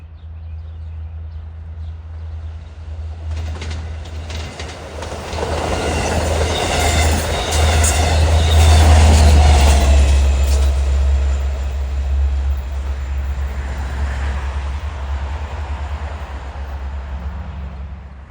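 Long Island Rail Road train 6065 runs westbound on the Montauk Branch from Patchogue to Babylon, passing position light signals at sunset with a loud, swelling roar of wheels and rail clatter, a deep steady rumble, then fading as it recedes.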